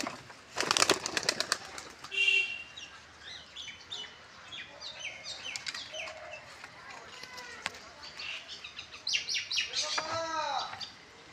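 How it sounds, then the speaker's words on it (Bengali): Pigeons in a loft call and coo close by, with sharp chirps and short calls repeating throughout and a brief flurry of wing flaps at the start, loud and near. "পায়রা, দেখো"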